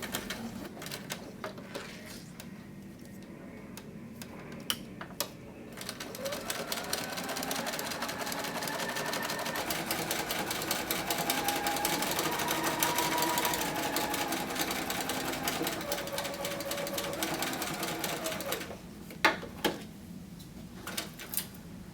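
A sewing machine straight-stitches quilt binding on a small quilted finger labyrinth, running steadily and fairly close for most of the stretch, with short pauses and handling clicks at the start and end.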